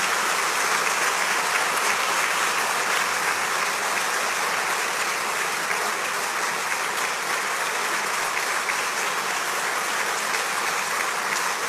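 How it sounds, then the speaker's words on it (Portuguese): At a Christian college's graduation ceremony, families, graduates and teachers give sustained, dense applause, an even roar of many hands clapping for nearly twelve seconds without pause. "dessem um forte aplauso a Deus pela vida dos nossos formandos"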